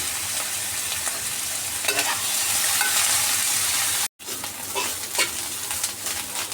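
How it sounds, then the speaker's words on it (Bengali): Small drained shrimp frying to golden in hot oil, a continuous dense sizzle close by, with stirring scrapes and a brief cut before the frying carries on. "তো এখন হচ্ছে ছোটো ছোটো চিংড়িগুলো ভেজে নেব গোল্ডেন কালার করে"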